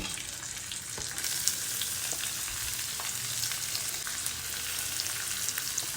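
Chopped garlic and onions fry in a pan with dried red chillies for an amaranth leaf stir-fry, giving an even, moderately quiet sizzle with scattered small pops and no talking.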